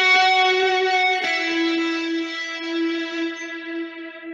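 A sustained guitar note through a bucket brigade delay, with a warm, murky effect, repeats blurring into a long fading tail that slowly decays.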